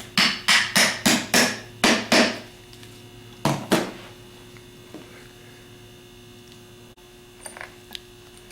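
Sharp, close taps seat the housing of a Denso starter, with a quick cluster of about seven knocks, then two more after a pause, over a steady electrical hum and a few faint clicks.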